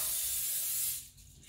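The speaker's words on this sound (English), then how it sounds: "I'm going to spray the pan" A short hissing burst of extra virgin olive oil cooking spray coated onto a baking pan for cake mix, steady for about a second before cutting off to quiet kitchen room tone.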